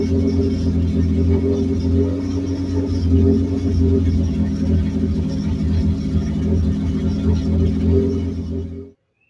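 Turbocharged Ford 300 inline-six swapped into a Torino, idling steadily with a loud, deep, continuous rumble and faint clatter for about nine seconds before it cuts off abruptly.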